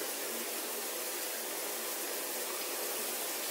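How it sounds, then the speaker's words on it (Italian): Water gushes steadily from a broken water pipe in an abandoned village, a constant hissing, rushing noise heard close up and unbroken throughout. "è rotto il tubo dell'acqua praticamente"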